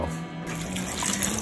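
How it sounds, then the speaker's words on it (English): Water pours steadily into a stew pot, a continuous close splashing stream with no talking. "We're gonna put in some more water."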